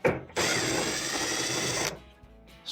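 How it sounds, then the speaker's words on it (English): Screws being driven out of a dryer panel with a power drill, a single close, loud whirring burst of about a second and a half with short quiet gaps before and after. "Let's go ahead and take these screws out."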